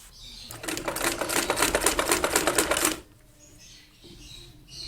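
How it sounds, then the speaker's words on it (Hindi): Sewing machine stitching fabric onto a button placket for a men's suit kameez: a rapid, even mechanical chatter runs loud and close for about three seconds, then stops and leaves quiet room sound. "यहाँ पर हम इस कपड़े को रखते हुए सिलाई करेंगे।"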